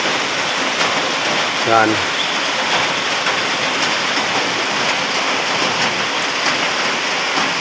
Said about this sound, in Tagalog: Kasi umuulan ngayon guys.